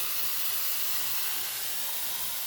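A pressure cooker vents steam in a home kitchen, giving a loud, steady, continuous hiss that holds unbroken throughout with no other sounds over it.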